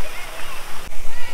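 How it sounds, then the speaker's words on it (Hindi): Water falling and splashing at a resort pool area, a loud, steady rushing wash that fills the whole moment up close, with no voices over it. "यहाँ पानी नीचे गिर रहा है"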